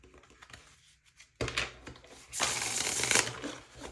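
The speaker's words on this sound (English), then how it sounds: "Before each group, I've been doing 1 or 2 shuffles." Revelations Tarot cards being shuffled by hand, two bursts of riffling, a short crisp flutter followed by a longer, louder rapid shuffle close to the microphone, with no talking.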